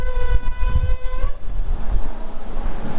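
A Kolkata–Lalgola Hazarduari Express pulls into Berhampore Court station, its horn sounding as a loud steady tone for over a second before fading into close rumbling wheels and rail clatter.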